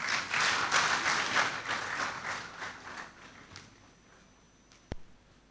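Applause from an audience at a university inaugural lecture, welcoming musicians from the Department of Music; dense clapping fills the first three seconds, then thins and fades, ending with a single sharp knock.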